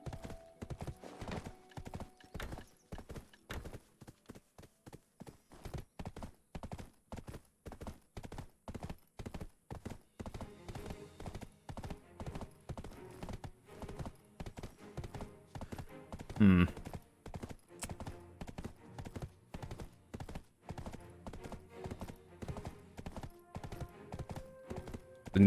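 Untrained horse with no gear clip-clopping along in the Black Desert video game, a steady rhythmic patter of hoofbeats throughout, with a brief whinny partway through.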